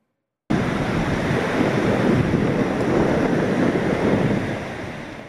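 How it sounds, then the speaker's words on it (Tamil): Rough, storm-churned sea surges along the Cuddalore coast in a loud, continuous roar of surf, with wind buffeting the microphone. It starts abruptly after a moment of silence and eases slightly near the end. "கடலூர் மாவட்டத்தின் பல்வேறு பகுதிகளில் கடல் சீற்றத்துடன் காணப்படுகிறது."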